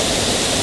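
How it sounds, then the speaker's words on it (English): A waterfall beside a side path near the end of a volcanic-area hike on the Tongariro Crossing, heard as a loud, steady, close roar of falling water with no voices. "Beautiful waterfall."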